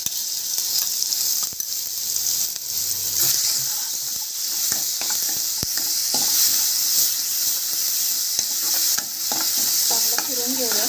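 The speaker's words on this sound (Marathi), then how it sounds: "आता आपण जे वाटण केलं आहे ना ते घालूया, मिरची आणि लसणाचं।" Green chili and garlic paste sizzles loudly in a hot pan, a continuous close frying hiss broken by the repeated scrape and knock of a spoon stirring through it.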